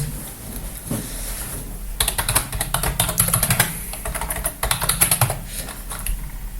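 Steady clicking of keys on a computer keyboard, typed in quick bursts with brief pauses, close and clear with no voices.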